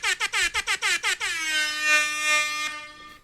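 An air horn sound effect: a rapid series of about eight short, loud blasts, then one long sustained honk that holds for about two seconds before cutting off.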